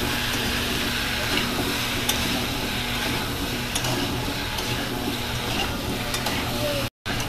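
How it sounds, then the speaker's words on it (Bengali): Potato pieces fry with salt and turmeric in a home kitchen pan, giving a steady, close, continuous sizzle with faint stirring scrapes throughout. "নুন আর হলুদ পরিমাণ মতো দিয়ে এখানে লাল করে ভালো করে ভেজে নেব।"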